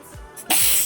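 A short, breathy sneeze bursts out after a quiet moment, close and fairly loud, with a brief sharp onset followed by an airy hiss that trails off.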